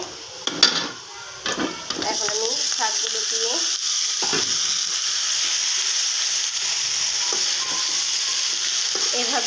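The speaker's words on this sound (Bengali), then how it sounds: "লাউ শাক বাগা দিয়েছি" Gourd greens fry in a pan with browned onion, giving a steady, close sizzle after a few clinks of stirring at the start, with brief speech early on.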